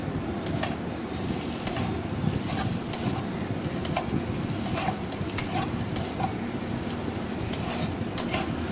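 Pointed gourd peels and shrimp fry in a pan, a dense continuous sizzle broken by frequent sharp stirring clicks and scrapes, close and fairly loud throughout.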